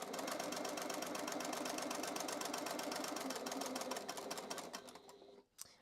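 A sewing machine stitches the corners of two fabrics, one of them interfaced, with a fast, even, rhythmic mechanical chatter close by. It slows and stops near the end.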